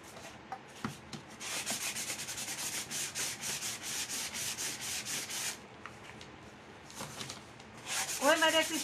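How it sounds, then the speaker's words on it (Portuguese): Sandpaper rubbing back and forth over a painted decorative plaque finished with stencil and acrylic plaster, in steady repeated strokes at close range, pausing briefly midway before resuming. "Vou lixar bem aqui, só no meio."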